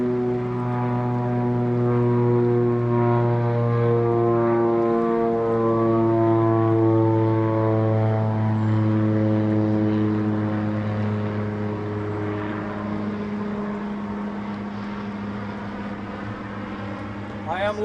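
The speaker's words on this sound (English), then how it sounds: "There's a lot of airplanes out." Propeller airplanes drone steadily near an airport on a clear day beside the Kenai River in Alaska, a sustained engine hum with shifting pitch as the aircraft pass overhead.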